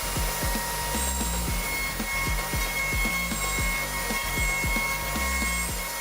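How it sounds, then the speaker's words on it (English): A CNC router carves wood with a steady, loud machine drone broken by a fast, regular chatter of cutting strokes, close and continuous with no voices. "The CNC router is truly a powerful tool in the woodworking and manufacturing industry."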